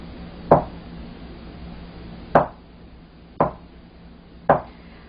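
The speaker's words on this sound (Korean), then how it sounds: "이렇게 삼각형 모양으로 잘라주세요" A knife chops through a block of tofu on a cutting board, slicing it into triangles: four sharp, separate thuds spaced about a second or more apart, fairly close and clear with no talking.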